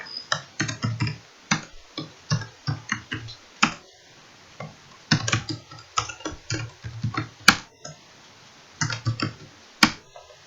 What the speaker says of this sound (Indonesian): Kemudian silakan ketikkan nama.